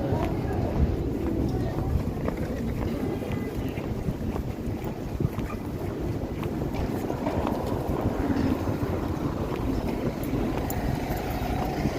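Strong winter wind roars steadily across the microphone, a loud, continuous buffeting rush that lasts throughout and keeps the same level from start to finish.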